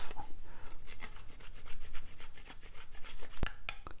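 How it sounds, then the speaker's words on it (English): Chocolate is grated over a bowl of chocolate mousse, a quick run of soft, close rasping strokes with a couple of sharp clicks near the end. "Or you can grate some chocolate on top."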